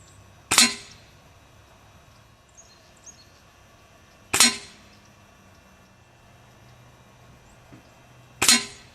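IZH-61 side lever .177 air rifle firing Gamo Hunter pellets: three sharp, close cracks spaced about four seconds apart, each alone over a quiet background.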